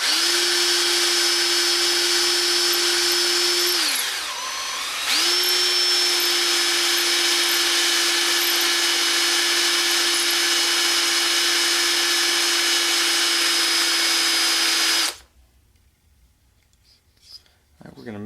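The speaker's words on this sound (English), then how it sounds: "so if you have a drill, that's the only way you can do it" A power drill whines steadily at high speed for a long stretch while drilling tail light plastic, dipping briefly mid-run, then cuts off into quiet room noise.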